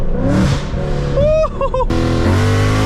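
A 2024 Ford Mustang GT engine revs and accelerates up close, rising in pitch through a gear change and settling into a deep roar, with a voice exclaiming over it.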